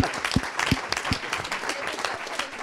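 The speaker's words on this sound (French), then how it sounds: "Donc on s'applaudit tous." An audience at a talk on mentoring and tutoring in healthcare professions applauds together, with dense, steady clapping and a few sharper individual claps standing out near the front.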